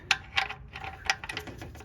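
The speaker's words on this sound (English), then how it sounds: "Now we need to tighten that up with the 14mm socket." Ratchet clicks from a 14mm socket tightening the oil drain plug on a 2006-2012 Toyota RAV4 3.5L V6, a quick irregular run of sharp metallic ticks heard close up.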